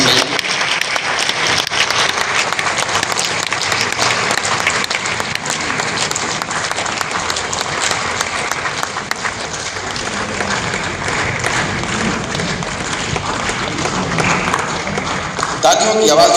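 Sustained applause from an audience at an Urdu seminar and mushaira in a hall in Patna, a dense, loud wash of clapping that runs unbroken, with talk faintly beneath.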